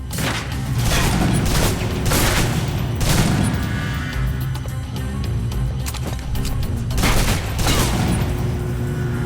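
Sustained automatic submachine gun fire from the PC game Alpha Protocol, rapid loud bursts rattling continuously with heavier booming peaks, close and dense, with no talk over it.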